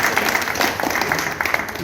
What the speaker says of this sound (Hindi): जोरदार तालियों से उनका स्वागत करेंगे।